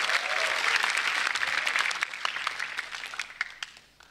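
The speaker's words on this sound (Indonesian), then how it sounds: "Tepuk tangan buat Kompas TV." A stand-up comedy audience at a televised contest breaks into full applause that holds briefly, then thins into scattered claps and dies away.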